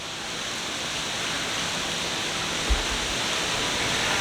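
Water spraying and splashing at a splash pad on the Royal Caribbean cruise ship Symphony of the Seas, a steady broadband hiss of falling water lasting several seconds with no talk.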